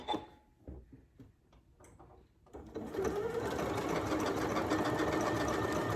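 A Janome Memory Craft MC9450 sewing machine stitches a built-in quilting pattern, starting after a few seconds of quiet handling and then running steadily with a fast, even mechanical chatter up close.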